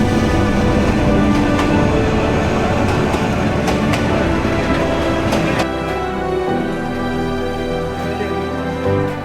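The Burimari Express, a local train in Bangladesh, pulls into a station with a loud, continuous rumble and clatter that eases into a lower, steadier hum as it slows.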